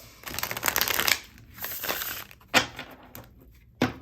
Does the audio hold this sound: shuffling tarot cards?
yes